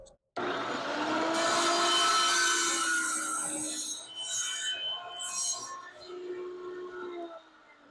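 A table saw with a tenon jig cuts a 3/4 inch scrap trim board, a loud sustained whine with a steady tonal ring that drops off near the end as the motor winds down.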